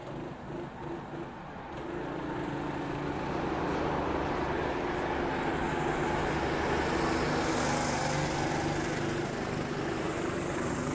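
A Formula race car engine fires up on the grid at Monaco, a low idle building after a couple of seconds into a steady, loud, sustained engine roar with crowd and ambient noise around it.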